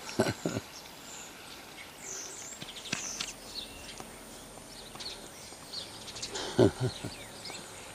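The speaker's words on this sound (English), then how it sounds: "That's our starling. That's the one that nests in our roof." A starling calls from its roost in a house roof outdoors, giving faint, scattered chirps and twittering bursts that come and go at a distance over quiet background noise.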